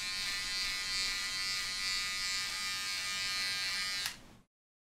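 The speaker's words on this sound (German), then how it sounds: "Dr. Frankenstein, shave it all off." Electric razor buzzing steadily and loudly for about four seconds, a bright high whine that cuts off abruptly before a brief silence.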